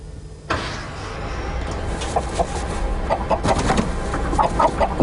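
Five live chickens cluck and chatter in a busy flock, with repeated short clucks and squawks over a steady background hiss.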